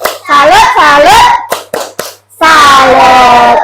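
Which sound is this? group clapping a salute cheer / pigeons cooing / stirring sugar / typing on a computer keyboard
group clapping a salute cheer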